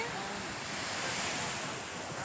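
Sea waves washing far up onto the shore, a steady broadband roar of surf with wind noise on the microphone.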